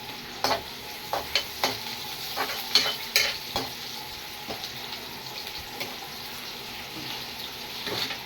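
Onions frying in a pan with salt, a steady soft sizzle broken by repeated sharp scraping strokes of a stirring utensil, close and fairly loud, with no one talking.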